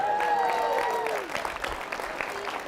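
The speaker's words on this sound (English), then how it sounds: "Give this man a round of applause." A conference audience gives a short round of applause, with a burst of crowd clapping mixed with a sustained tonal voice at first, then scattered claps fading out.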